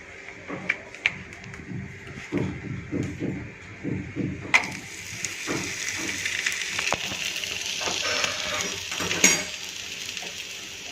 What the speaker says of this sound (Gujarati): આ રીતે આને આપણે નોનસ્ટિક ઉપર ગરમ કરી દઈશું.